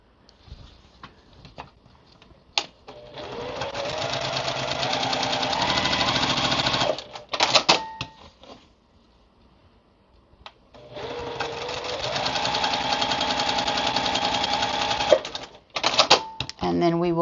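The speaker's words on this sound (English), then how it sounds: "So now we're going to put these right sides together. And we're going to just sew down both of those lines" A sewing machine stitches down both seam lines of a pieced quilt block, running in two long, steady bursts separated by a pause, with brief talk between runs.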